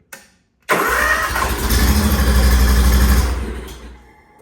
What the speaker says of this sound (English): leave it on when you're gonna start the machine